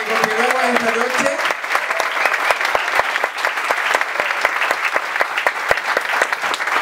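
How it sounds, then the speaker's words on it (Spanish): An audience at a café concert show with a drag performer applauds, loud dense clapping that holds steady for several seconds, with a brief sung or voiced tone at the start. "Oye chicos, un aplauso por supuesto para que continuemos esta noche."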